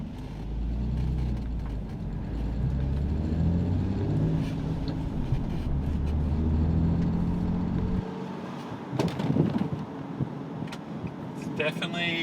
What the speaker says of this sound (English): So we're just going for a drive now just to see how it feels and make sure nothing's loose or clunking.